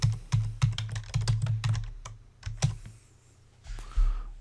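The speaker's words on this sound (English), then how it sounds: "we're going to type in landscape coordinates." Rapid keystrokes clack on a computer keyboard, typing landscape coordinates into 3D texture-paint software, in a close burst of clicks that trails off into quieter scattered taps and a brief soft thump.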